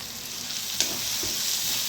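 Steady sizzling of cabbage and chili relish (sambharo) stir-frying in hot oil, with a brief clink of a utensil stirring the pan partway through.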